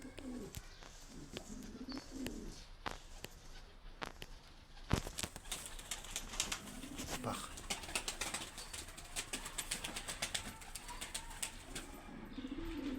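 Pigeons in a home coop coo softly and repeatedly, with scattered wing flaps and bird calls amid a steady background, all at moderate distance.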